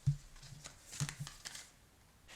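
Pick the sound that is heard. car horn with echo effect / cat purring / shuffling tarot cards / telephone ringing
shuffling tarot cards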